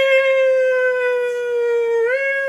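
A voice imitating a fire truck siren with a steady, sustained wailing tone that bends upward near the end, close and on its own.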